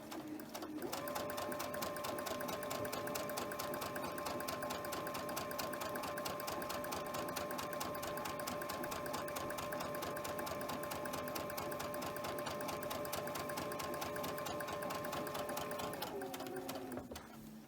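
A sewing machine runs steadily for about sixteen seconds, stitching quilt fabric in a 2.5-inch strip, then winds down at the end; the motor hum is loud and continuous with no talk over it.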